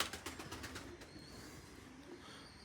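Pigeons coo softly inside a pigeon loft in Belgium, low murmuring calls under a faint steady background, with a few brief rustles at the start.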